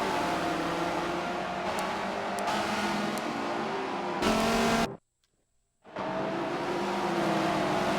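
A Dodge Viper races in a Forza Motorsport video game, its engine droning loudly and steadily amid other cars before cutting to near silence for about a second and then resuming.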